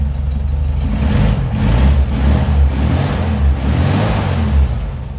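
A cold air-cooled Volkswagen Beetle engine idles steadily right after its ignition timing has been set, a loud, close, low rumbling idle with a slightly uneven pulse and a few faint high squeals over it.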